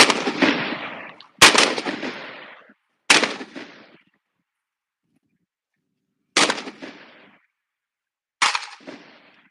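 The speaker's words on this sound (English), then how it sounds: "This is team 40, still shooting. They're on the rifle portion of Krilling range." Rifle shots crack out on the rifle portion of a ranger competition shooting range, five sharp reports spaced irregularly with short decaying echoes and silence between them.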